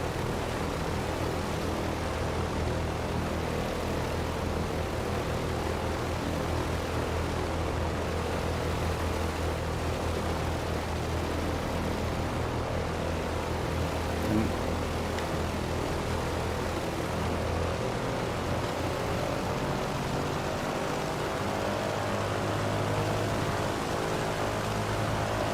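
Douglas DC-3 propeller airliner in MSFS 2020 taxiing, its piston engines droning in a steady, loud, continuous rumble with a faint rising whine partway through, no talking.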